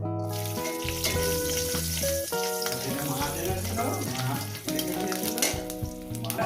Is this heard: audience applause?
no